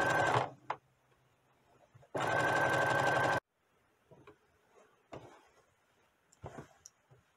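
A Brother sewing machine stitching a dress neckline: a short opening burst, then one loud, steady run of rapid stitching for about a second, followed by quiet handling clicks and soft knocks, close by with no talk.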